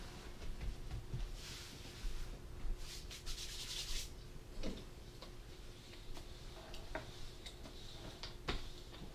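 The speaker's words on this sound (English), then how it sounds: "you're going to want to roll it out till it's about a ½ inch thick" Rolling pin rolling out homemade doughnut dough on a work surface, faint soft rubbing strokes with light scattered taps and knocks, quiet and close.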